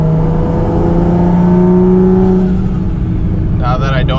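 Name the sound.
car turbo with performance filter, under acceleration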